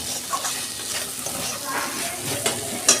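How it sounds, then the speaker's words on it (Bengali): Fried eggplant curry sautéing in oil in a pan, a soft continuous sizzle with light stirring scrapes, close and steady throughout. "আমি একটু কষে আর জল দিয়ে দেবো"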